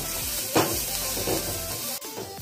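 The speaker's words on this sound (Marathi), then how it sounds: "आता आपण हे मऊ होईपर्यंत भाजून घ्या" Onion and tomato roasting in a pan for mutton sukkha, a soft steady sizzle with a few stirring scrapes and a sharp clatter near the end.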